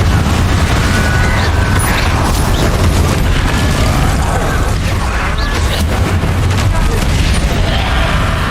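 Incendio fire spell cast in the Hogwarts Legacy video game during a battle: a dense, continuous roar of fiery blasts and booming impacts, loud and sustained throughout, with the game's combat noise layered over it.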